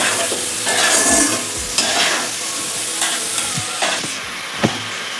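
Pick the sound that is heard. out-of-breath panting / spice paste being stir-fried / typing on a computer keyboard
spice paste being stir-fried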